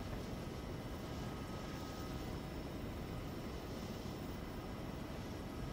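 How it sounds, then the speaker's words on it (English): Arma 3 military helicopter in flight, a steady, dense rotor and engine roar held at constant loudness throughout, close and unbroken with no talk over it. "we're just saturating them with the helicopter noise so that they don't expect us to come"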